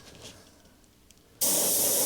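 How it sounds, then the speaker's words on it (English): An airbrush spraying paint over a bullet hole template, starting abruptly after a quiet moment as a loud, steady, close hiss that continues to the end. "just from a distance try and spray directly over it so that you minimise the chance of any overspray"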